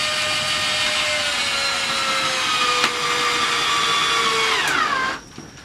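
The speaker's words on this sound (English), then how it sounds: "I think the wood's soft enough to where I can just drill in." A power drill runs steadily into soft wood at the base of a greenhouse, its motor whine holding level for about five seconds before winding down and stopping, close and loud with no talk.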